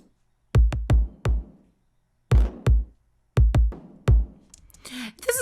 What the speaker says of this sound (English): I actually am pairing the kicks with a stomp here